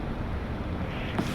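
Wind blows steadily in the Granny 2 video game, a continuous broad whooshing rush with no talking.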